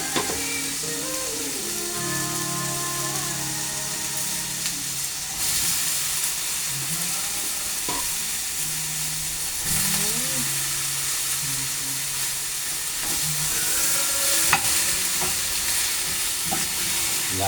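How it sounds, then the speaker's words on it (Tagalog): Eggplant is stir-fried in a pan with only a little oil, giving a steady loud sizzle with scraping stirs throughout and tonal whines and hums in the background. "Ihalo natin talong."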